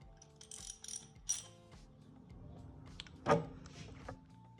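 Socket wrench ratchet tightening a low-pressure fuel sensor on a 2013 Ford Fusion Titanium 2.0L, with quiet clicking ratchet strokes in short bursts and a sharper metallic clink near the end, close and faint.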